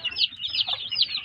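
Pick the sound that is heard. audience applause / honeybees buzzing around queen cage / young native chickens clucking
young native chickens clucking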